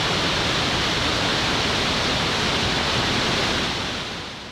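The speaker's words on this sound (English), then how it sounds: "This is Murchison Falls, the most powerful waterfalls in the world." Murchison Falls, where the entire River Nile forces its way through a narrow gorge, roars as a dense, steady wall of loud rushing water with no voices over it.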